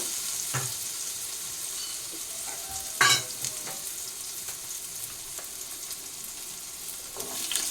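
Potato pieces fry in a home kitchen pan, a soft steady sizzle broken by a few spoon scrapes and one sharper clatter, close but fairly quiet.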